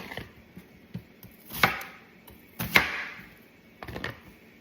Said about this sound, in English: I'm done washing the tomatoes and the onion, so it's time for us to slice it